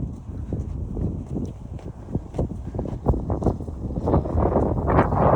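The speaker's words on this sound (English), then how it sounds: "It's super windy here" Gusty wind buffeting close to the microphone, a low rumbling roar that swells and dips and grows stronger toward the end.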